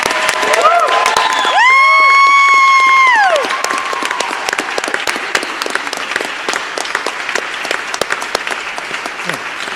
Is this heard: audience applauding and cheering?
yes